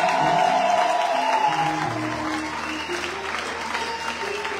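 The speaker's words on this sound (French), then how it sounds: "Maintenant, acclame pour ta visitation ce soir." A church congregation applauds steadily at a worship service, a dense, continuous wash of clapping that stays loud and fairly even throughout, with a faint murmur of voices mixed in.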